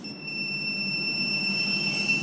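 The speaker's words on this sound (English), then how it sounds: "Now if I try to start it again, you'll get this long beep." A long, steady high-pitched electronic beep from a Xiaomi anti-itch pen, sounded when restarted after cutting off, holds continuously over faint background hum, unbroken for the whole stretch.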